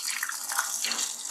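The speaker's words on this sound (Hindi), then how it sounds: "अब इसमें डालेंगे ये बैटर।" Ghevar batter poured slowly from a spoon into hot refined oil in a deep pot, giving a steady hissing, bubbling sizzle with light crackles, close and continuous, no speech.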